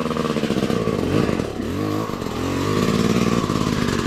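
A motorcycle on a hard enduro trail in San Luis, Aurora runs loud and close, its engine revving up and down in uneven bursts with a rough, clattering idle between them.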